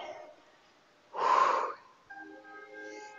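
Heavy breath during a back-strengthening fitness class: a single loud, noisy exhale lasting about half a second stands out clearly against a quiet background, with faint tonal sounds after it.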